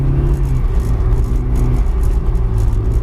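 A stock BMW 318 with 115 hp and an open differential driving in third gear, a loud steady engine drone with road rumble and light cabin rattle heard from inside, no one speaking.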